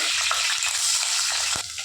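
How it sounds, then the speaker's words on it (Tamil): Onions sizzle and fry steadily in a hot pan, a continuous crackling hiss with faint stirring scrapes underneath. "வெங்காயம் நல்லா பொன்னிறமாக வதங்கட்டும்."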